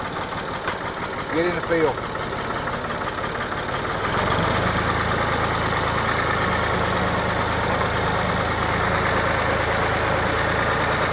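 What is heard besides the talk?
tractor engine running in fourth gear, low range, while spraying beans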